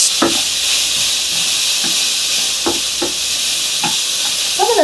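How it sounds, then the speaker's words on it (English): Orange, green and white vegetables sizzle loudly and continuously as they sauté in a pan, a steady bright hiss broken by a few soft scraping stirs. "I'm going to saute these veggies for about 5 minutes"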